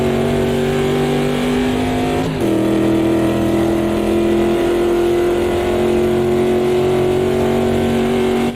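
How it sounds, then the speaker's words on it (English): A faster race car closes in during an Automobilista race at Hockenheim: a loud, steady engine drone with a sharp dip in pitch partway through, then the high whine holds as it stays close behind. "Okay, Dan, there's a faster car approaching."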